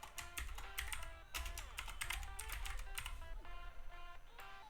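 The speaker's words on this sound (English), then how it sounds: "we'll type in Los Santos" Text being typed on a computer keyboard, a quick run of close, crisp key clicks in uneven bursts with short pauses, quiet and without speech.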